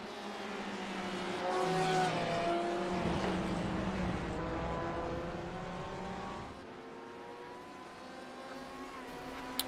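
Several sim race car engines at Sebring International whine and rise and fall in pitch through gear changes, loud and continuous, fading slightly toward the end; no distinct crash impact stands out.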